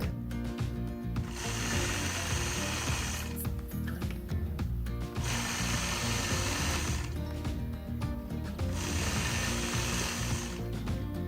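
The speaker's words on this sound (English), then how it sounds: "I'm going to stitch a straight line to that first marked point." A sewing machine stitches a quilt block in straight lines guided by a mini inside-out machine quilting ruler, running steadily for about eleven seconds with short pauses between longer bursts and no talking.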